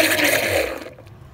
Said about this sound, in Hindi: बस अब हम इसको ना जूसर में ना ब्लेंड कर लेते हैं।